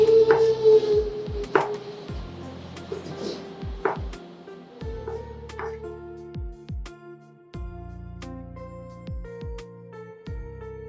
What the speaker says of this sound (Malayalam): കട്ട് ചെയ്ത് നമ്മുടെ സോസേജ് നമുക്കൊന്ന് കട്ട് ചെയ്തെടുക്കാം